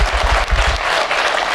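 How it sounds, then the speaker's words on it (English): Live podcast audience at a convention show applauding, a loud, dense burst of clapping from a crowd that stays steady throughout the short stretch. "You have to clap."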